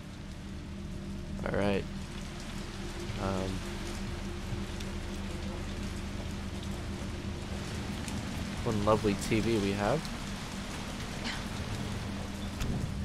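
Rain falling in the Resident Evil 3 video game, a steady hiss of rainfall held at a constant low level throughout, with someone talking over it in short bursts.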